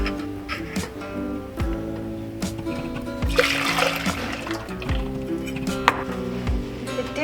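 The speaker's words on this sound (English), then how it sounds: "Now you're just going to pour this back into the saucepan." Liquid pours and splashes steadily into a pan, a soft wet trickle heard under background music.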